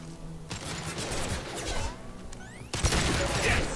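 Gunfire in the video game Mass Effect 2, a dense, continuous barrage of shots and impacts with crashes, growing louder and busier in the final second, with no talk over it.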